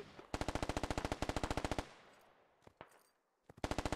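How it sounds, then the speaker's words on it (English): An RPK machine gun fires in the game Squad, with a long rapid burst of evenly spaced loud shots, a short gap with a few scattered distant reports, then another burst starting at the end. "It's an RPK."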